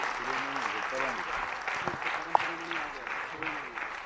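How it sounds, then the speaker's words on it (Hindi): Steady applause from a crowd fills the space, loud and continuous, while a voice speaks over it. "आप सबकी जोरदार तालियां हमें चाहिएगी"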